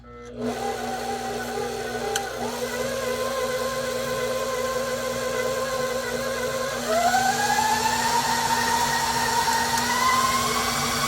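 An electric mixer on fifth speed creams butter pecan coconut pound cake batter with a steady, close whine and hum. The motor pitch rises partway through and stays higher.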